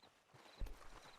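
Horse hooves walk in Red Dead Redemption 2, giving a few soft, quiet clip-clop steps with a slightly heavier thud partway through.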